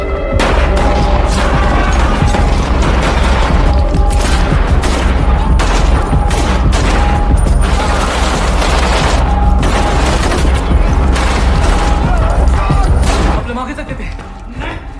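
Film gunfire erupts in a dense, loud fusillade of shots and booms, continuous and overlapping for most of the stretch before tapering near the end, with someone speaking over the battle.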